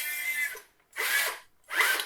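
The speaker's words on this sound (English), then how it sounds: "you can also drill a 10mm hole for the shank to go through if you wished" A power drill bores a hole through a levitating wall clock part in three close, loud whirring bursts, each spinning up and stopping with short pauses between.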